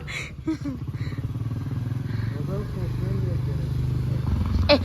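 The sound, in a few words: motorcycle being ridden, rider shifting clutch and gears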